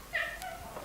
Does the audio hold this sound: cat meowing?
yes